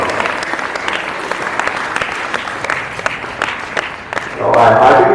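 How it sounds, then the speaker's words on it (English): Audience clapping at a school Republic Day celebration, an uneven spread of distinct claps that swells into a louder, fuller burst near the end. "Give a round of applause."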